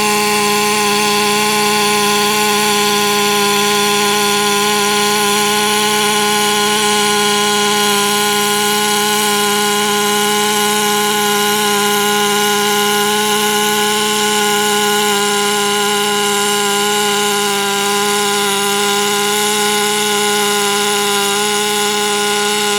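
A MIG welder lays a pass on a 1G flat plate test weld, giving a loud, steady, unbroken buzzing hum that holds even throughout with no speech.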